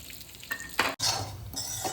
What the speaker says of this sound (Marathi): कढईत आपण एक चमचा तूप टाकू आणि यात अक्रोड आणि पिस्ता छान फ्राय करून घेऊ